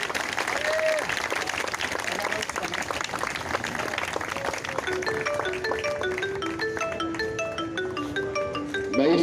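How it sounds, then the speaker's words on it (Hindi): A crowd at a Dera Sacha Sauda gathering claps to welcome the MLA, steady broad applause throughout with tonal chimes or music entering partway and continuing over it. "तालियों से विधायक जी का स्वागत कीजिए"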